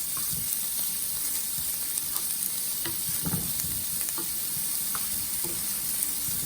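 Onion frying in a pan for spicy Nepali-style tofu, a dense steady sizzle with occasional soft stirring scrapes, close and continuous without speech.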